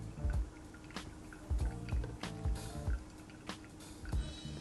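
Coffee of a slow-dried natural Las Lajas roast drains through a pour-over filter, faint wet drips and soft trickling pops recurring irregularly, quiet and close.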